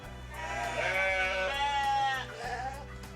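Goats raised by a rubber tapper in East Java bleat: a long, wavering, nasal bleat, then a shorter one, moderately close over a steady low background hum.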